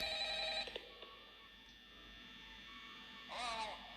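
Electronic telephone ringing in the Five Nights at Freddy's horror game, a warbling tone heard in a burst at the start and again near the end, moderately loud with a quiet gap between.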